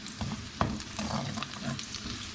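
Sliced onion frying and being stirred in a pan, a steady close sizzle with scraping stir sounds and one sharp clack of the spoon against the pan.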